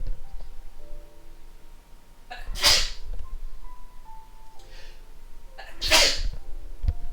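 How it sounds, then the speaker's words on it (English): Two loud sneezes several seconds apart, each a sharp burst close to the microphone, over a quiet background with faint electronic game tones. "I made a chain over there with sneezing."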